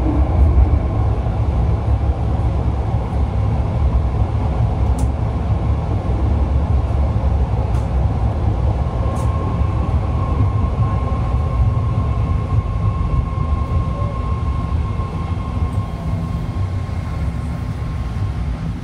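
A BART Yellow Line train to Antioch in San Francisco rolls on with a loud, steady rumble heard from inside the car, with occasional faint clicks and squeals over the continuous roar.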